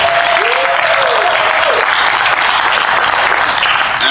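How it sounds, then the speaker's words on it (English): Steady, dense applause from a convention crowd at closing ceremonies, filling the whole stretch without a break; a faint whistle-like tone rises briefly near the start. "Give them a round of applause for sure."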